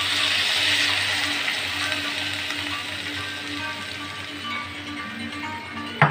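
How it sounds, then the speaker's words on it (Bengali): Water pours steadily into a pan of sautéed vegetables for Bengali shukto, a continuous broadband rush that runs for about six seconds with a brief splash near the end, without talk. "এবার এতে আমি দিয়ে দেব 2 কাপ মতন জল"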